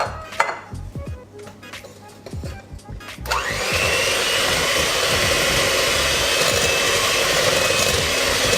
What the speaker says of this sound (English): the next thing to do is to whisk in the lemon zest and the lemon juice